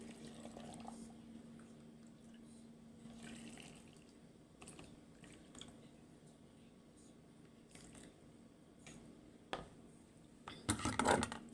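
Boiled hot water poured out while preserving potatoes, a faint, steady liquid trickle that swells into a louder splashing burst near the end.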